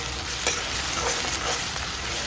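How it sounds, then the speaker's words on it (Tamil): Ginger garlic paste frying with onion and green chili in a pan for spicy prawn gravy, a continuous loud, close hiss of oil with faint stirring. "நல்லா ஃப்ரை ஆகிட்டே இருக்குது"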